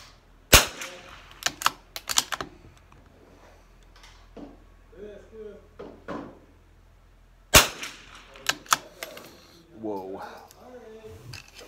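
Lakefield 91TR rifle firing CCI standard velocity rounds at the range: two sharp close shots several seconds apart, each followed by clattering handling noises, with people talking in between.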